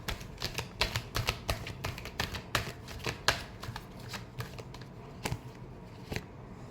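Tarot cards being shuffled by hand, a rapid series of crisp riffling and slapping flicks, close and fairly quiet, irregular in rhythm and heard alone.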